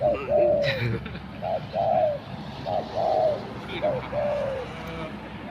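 Spotted dove cooing during decoy bird hunting outdoors: a series of rhythmic, mellow coos repeating in short phrases, fairly close, over a steady background hum with faint voices.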